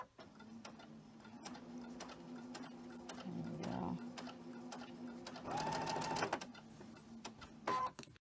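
A sewing machine chain stitches quilt blocks in bursts of rapid mechanical whirring and ticking, close up and steady, with brief pauses and someone speaking between runs.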